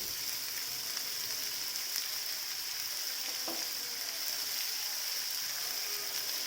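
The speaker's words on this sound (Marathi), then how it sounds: "तर हे सगळं आता लसूण जिरे आणि कांदा हे चांगलं लालसर होईपर्यंत भाजायला घ्यायचं" Garlic, cumin and onion frying in a pan, with a continuous, even sizzle at moderate distance and a faint click partway through, no voices.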